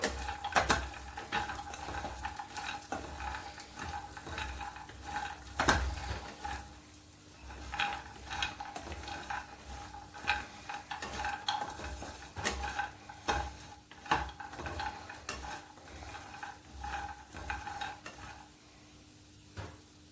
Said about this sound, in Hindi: सभी ड्राई फ्रूट को क्रिस्पी होने तक हम तलेंगे।